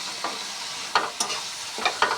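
Spiced masala with tomato, cashew and cinnamon paste, seasoned with soy sauce, being sautéed for a boal fish curry; a soft steady sizzle with a few sharp spoon scrapes against the pan.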